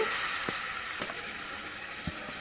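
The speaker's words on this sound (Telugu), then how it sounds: "అల్లం వెల్లుల్లి పేస్ట్ బాగా వేగిన తర్వాత మనం ముందుగా నానబెట్టుకున్న వట్టి ముక్కలను కూడా ఇందులో వేసేసుకొని మగ్గించుకోవాలి." Soaked dried meat pieces frying in ginger garlic paste, a steady soft sizzle with a few small clinks or stirring knocks, close and continuous without speech.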